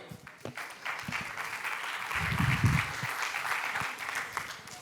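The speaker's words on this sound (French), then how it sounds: "On peut l'applaudir." Audience applause after a mentalist speaker on AI is introduced on stage at a conference, a dense steady clapping that swells midway and continues throughout, with a few louder isolated claps.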